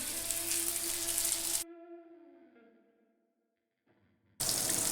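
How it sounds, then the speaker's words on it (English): German Frikadellen flat meatballs sear in vegetable oil in a pan. A loud close sizzle cuts out abruptly into near silence, then returns at full strength. "We're gonna start searing these"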